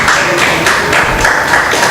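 Church congregation clapping in praise, a dense steady wash of many hands with a faint rhythmic pulse running through the whole stretch.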